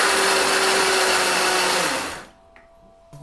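A mixer grinder whirs loudly and steadily, grinding dried shrimp chutney, then switches off and winds down, leaving near silence with a small clunk at the end.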